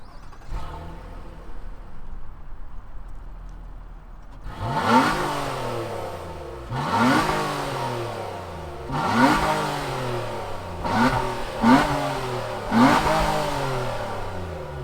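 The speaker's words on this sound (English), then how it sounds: "let's fire it up and hear what that V6 sounds like" A 2021 Nissan Maxima 40th Anniversary Edition's V6 engine starts up, then is revved repeatedly in rising and falling bursts, each rev climbing and dropping in pitch, fairly close.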